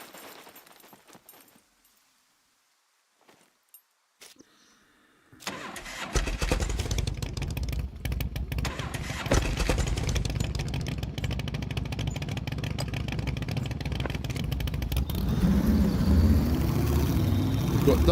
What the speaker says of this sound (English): We've got double engine noise.